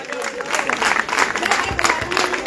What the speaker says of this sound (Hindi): तालियां बंद नहीं होनी चाहिए